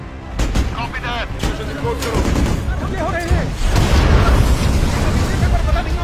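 Bursts of gunfire and heavy booming RPG explosions over a continuous rumble, with shouting voices mixed in, from a film scene of an ambush on a patrol.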